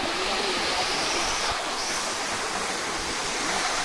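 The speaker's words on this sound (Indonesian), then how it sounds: "di depannya itu langsung hadap ke air terjun" The Tibu Giong waterfall roars in a constant, broad rush of falling water, fairly close and loud, with no other sounds standing out.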